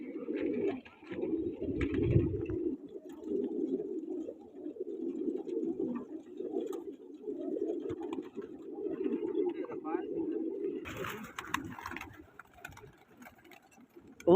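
Pigeons coo low and repeatedly at close range, in a long run of soft throaty calls. It comes from pigeon-flying competition birds, and a few brief clicks and rustles can be heard toward the end.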